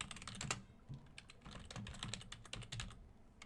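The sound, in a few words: typing Java code on computer keyboard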